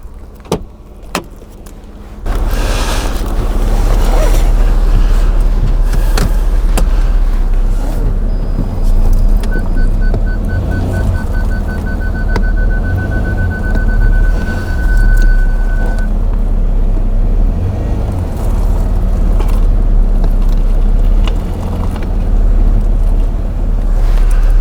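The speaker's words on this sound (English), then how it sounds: "let's get the car onto it." A Jaguar's engine starts and runs steadily close by as the car is driven slowly onto a small wheel ramp, a constant low rumble with a faint whine, no talking.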